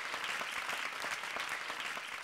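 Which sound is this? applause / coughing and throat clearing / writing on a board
applause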